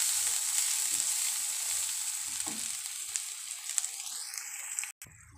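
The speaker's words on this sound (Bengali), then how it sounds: "দুই চামচ আদা রসুনের পেস্ট দিয়ে ভালো করে একসঙ্গে কষিয়ে নেব।" Ginger garlic paste and spices fry in a pan with a continuous, fairly loud hissing sizzle, a few faint stirring knocks, and a sudden brief cut near the end.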